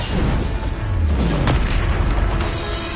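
A Bombarda spell explodes in Hogwarts Legacy, a loud, deep booming blast with a rumbling tail that fills the whole moment.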